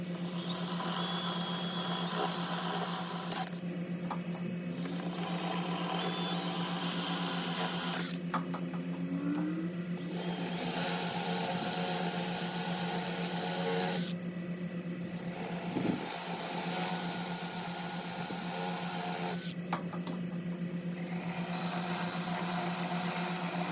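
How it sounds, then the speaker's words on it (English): A power drill bores holes into a wall for mounting a mini split line cover, several long sustained whirring runs with brief pauses between them, close up and steady, with no one speaking. "And we're going to drill our holes."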